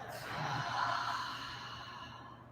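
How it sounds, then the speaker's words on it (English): A single long, soft exhale during a yoga breathing exercise, airy and close, swelling then fading gradually over about two seconds, heard alone without talk. "And exhale."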